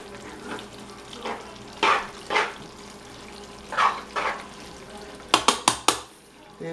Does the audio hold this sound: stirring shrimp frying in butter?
yes